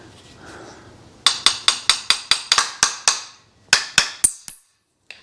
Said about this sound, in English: then just tap your pin back into place